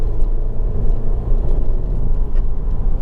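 Steady low rumble of a Honda Civic 1.8 i-VTEC Type S GT petrol engine idling, a smooth continuous drone heard close and alone with no voices.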